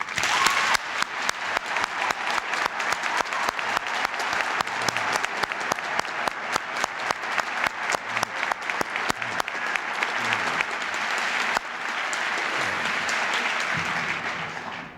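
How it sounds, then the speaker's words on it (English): High school students at Suitland High School in Maryland applaud in a dense, sustained round of clapping that carries steadily for the whole stretch, loud and close, then softens slightly toward the end. "would you take a moment to join me in applauding your own remarkable accomplishment?"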